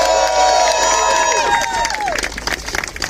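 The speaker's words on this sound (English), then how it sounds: "Give yourselves a round of applause" An outdoor crowd at a USPS rally applauds and cheers, with scattered clapping and shouts rising as a sustained tone fades, and babble running through.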